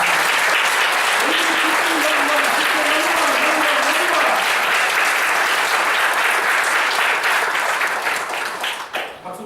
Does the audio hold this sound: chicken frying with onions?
no